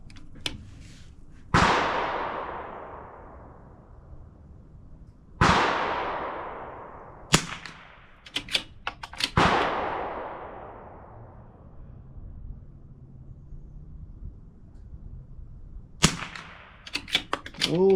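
CZ 457 rimfire rifle firing a five-shot group, sharp close cracks spaced several seconds apart with quick decaying tails and small clicks between shots, comparing Lapua and Eley ammunition.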